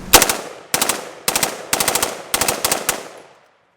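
KE Arms KP15 rifle firing green tip military ammunition on full auto, five sharp rapid bursts in quick succession, loud and close, with a short ringing tail after the last burst.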